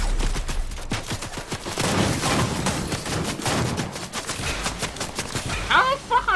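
Rapid bursts of automatic gunfire in a Fortnite duos match, loud and close, crackling continuously with sharp individual shots and a few short fades.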